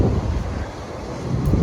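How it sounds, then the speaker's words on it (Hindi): Strong wind gusting just before rain, a loud, close roar buffeting the microphone continuously, with no talking. "देखिए फ्रेंड्स कितनी तेज हवा चल रही है।"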